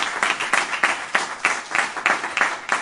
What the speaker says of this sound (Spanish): señores, vamos a darle un fuerte aplauso.